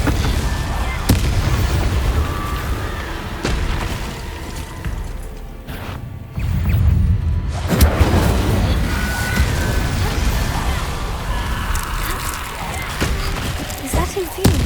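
A fire spell cast in Hogwarts Legacy, heard as a rolling burst of fiery booms and crackles that swell loudly around the middle and stay dense among the game's effects and voices.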